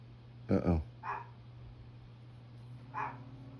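Chico the dog barks out in a backyard: a double bark, then two more single barks, each faint and distant over a low steady hum.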